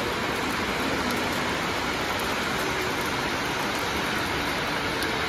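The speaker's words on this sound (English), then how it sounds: "It's raining heavily now." Heavy rain pours steadily in Kalimpong near a monastery, a dense continuous hiss with no gaps or voices.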